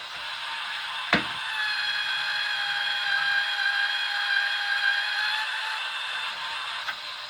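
A Lyman case prep unit trims a .223 Remington cartridge case with a steady, even motorized whir lasting several seconds, bracketed by sharp clicks at the start and end.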